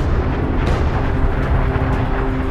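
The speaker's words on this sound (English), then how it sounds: "blowing off the outer layers of the star in a massive explosion" Massive supernova explosion sound effect as a star blows off its outer layers: a loud, continuous deep roaring rumble that stays dense and sustained throughout, with no voices.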